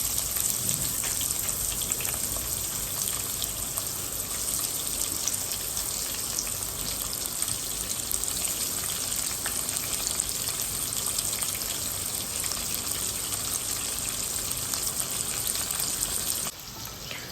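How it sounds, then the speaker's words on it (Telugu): Chana dal, mustard seeds and urad dal frying in hot oil for a South Indian tempering, a dense, steady sizzle that holds close and loud throughout before dropping suddenly near the end, with no voices. "శనగపప్పు ఆవాలు ఇవన్నీ కూడా వేసి వన్ బై వన్ ఫ్రై చేస్తూ ఉండాలి"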